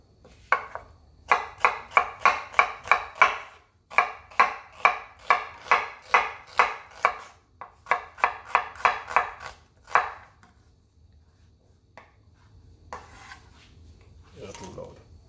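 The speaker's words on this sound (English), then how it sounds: "we're going to go ahead and cut up some veggies for the pot." A knife chops vegetables on a board for Jamaican-style saltfish and cabbage, with steady bursts of quick, crisp cuts followed by a quieter stretch and faint background voice near the end.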